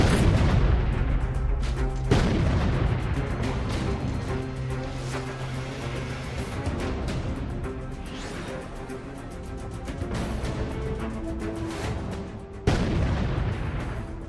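A powerful blast destroying a house where militants were hiding, with booming detonations and a rumbling, sustained roar that surges again near the end; loud and heavy, with no talk.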